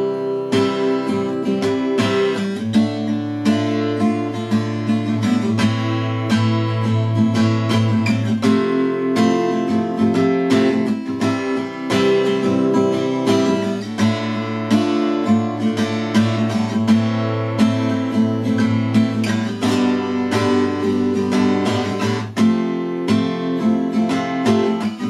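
Guitar strums the chorus chords of a song, a steady rhythmic chord progression played close and continuously throughout, with no voices.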